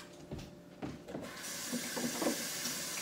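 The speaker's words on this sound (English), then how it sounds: "let me wash my hands" Hands being washed under a running kitchen tap, a steady hiss of water with splashing and rubbing that grows fuller partway through, close and fairly quiet, with no talk.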